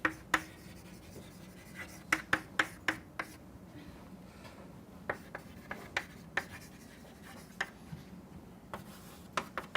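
Writing on a board or paper, faint and close, with short scratching strokes and taps arriving in irregular clusters over a low background hum.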